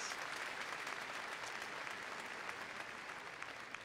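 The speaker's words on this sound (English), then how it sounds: "one more round of applause to our class of 1966" A commencement crowd applauds a class of 1966 alumni, steady dense clapping filling the hall at a fairly soft, even level throughout with no voices.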